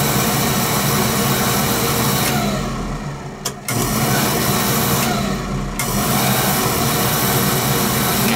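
A Beckett oil burner pump runs with a steady droning whine, loud and close, dipping briefly twice before resuming its continuous tone.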